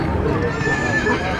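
A white horse for sale at a horse market whinnies amid a busy crowd, with hoof clatter and someone talking over a steady murmur of voices close by.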